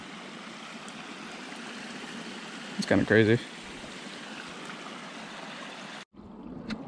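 Water flowing steadily through a roadside ditch beside a railroad, a constant rushing trickle and gurgle that runs throughout, with a person speaking briefly over it.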